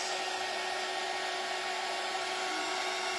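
Hair dryer blowing steadily to dry paint on a small craft flag, a continuous even whir held at constant strength throughout, with no talking.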